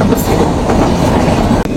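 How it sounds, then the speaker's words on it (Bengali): A train rolls past a level crossing with a loud, close, continuous rumble and clatter of wheels on rail, steady for the whole moment. "ট্রেনের সিগন্যাল পড়ছে, ট্রেন আসতেছে।"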